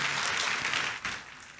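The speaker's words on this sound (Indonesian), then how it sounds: "Tepuk tangan dong buat Tuhan Yesus" A church congregation claps during a Sunday sermon, giving a short burst of dense applause that stays close and full, then eases off slightly near the end.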